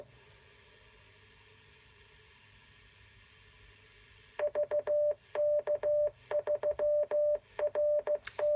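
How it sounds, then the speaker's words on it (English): Collins 51S-1 shortwave receiver: steady static hiss for a few seconds, then a transmission breaks in as a loud, clipped series of rhythmic beeping tone pulses in uneven groups. "That's a transmission"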